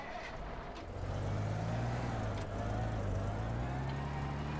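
A vehicle drives in the game Teardown with a steady low engine drone that starts just after one second and holds evenly to the end, close and with no talk.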